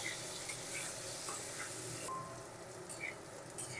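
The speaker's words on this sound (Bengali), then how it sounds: "এঁচোড়ের মধ্যেও দিয়ে দেব লবণ, হলুদ গুঁড়ো" Raw jackfruit frying with salt and turmeric in a pan, giving a steady, dense hiss of oil sizzling throughout, moderately loud with a few brief ticks and scrapes.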